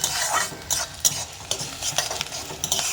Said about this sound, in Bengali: তেজপাতা দিয়ে হালকা করে লালচে করে একটু পেঁয়াজটাকে ভেজে নেব